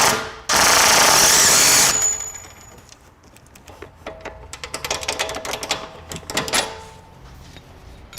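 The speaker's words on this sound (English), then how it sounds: "you can use a power tool to back this up" A loud burst of high-pitched power tool whirring while backing off a nut on suspension alignment parts, then a series of rattling, clicking impacts and short mechanical bursts as work continues at close range.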